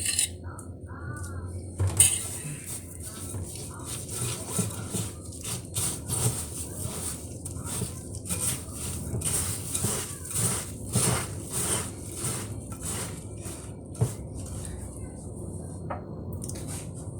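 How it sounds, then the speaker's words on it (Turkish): Chocolate sauce being kneaded into crushed biscuits by hand for chocolate truffle balls, giving soft, wet squishing with irregular clicks and taps against a bowl, close and steady for the whole stretch. "Bunu yavaş yavaş güzelce yoğuracağım."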